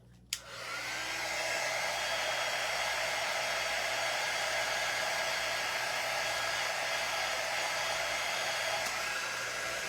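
A hair dryer blows steadily and loudly over a freshly painted craft cutout, switching on with a click and then running as a constant broadband whoosh with a low hum, with no talking over it.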